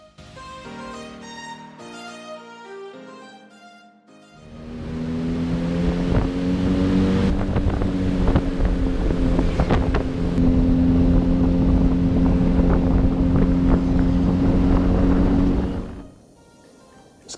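A Benelli TNT 250 motorcycle riding through capital-city traffic: the engine idles briefly, then revs up and holds a steady, loud drone for about twelve seconds before easing off, with wind noise over it and no talk.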